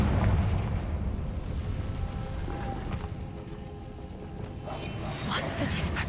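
The Confringo fire spell bursts in Hogwarts Legacy: a loud, deep explosive boom that rolls into a sustained rumbling roar, with a voice briefly audible beneath it.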